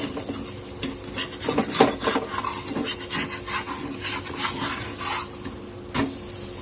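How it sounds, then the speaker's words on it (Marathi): Thalipeeth roasting on high gas in a pan, a steady sizzle with scraping and clattering strokes of a spatula as it is flipped, several louder scrapes midway, close and without talk. "थालीपीठ भाजवण्यासाठी ठेवलं होतं थालीपीठ आता पलटून घेणार आहोत"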